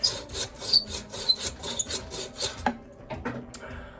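A cheap bow saw cuts a small wooden nub off a utility cart handle, its rapid rasping strokes repeating in a steady back-and-forth rhythm, close and alone, with metallic clinks near the end.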